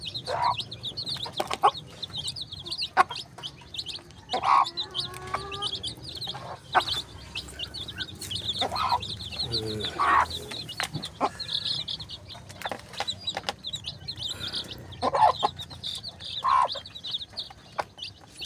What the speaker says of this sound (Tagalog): Cute chicken.